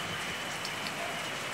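Heavy rain pours down in a steady, dense hiss at home, continuous and even across the short stretch with no voices.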